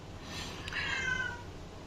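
A single drawn-out cat meow rises clearly above a quiet indoor background, close and moderately loud, with no talking.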